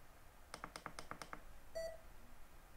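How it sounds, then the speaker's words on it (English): A quick series of faint clicks as a GoPro camera's mode button is pressed four times, then a single short electronic beep, close but quiet. "you click the mode button 4 times and you're going to hear a beep"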